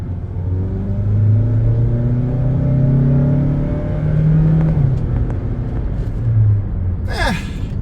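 Mazda CX-5 with a 155 hp engine accelerating hard at full throttle, its drone rising steadily in pitch under cabin noise, with a brief whoosh near the end.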